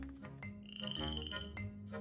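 A cartoon frog named Hopper gives a loud, close croak lasting about two seconds, a buzzy throaty call with a bright tonal rise in the middle and no talking over it.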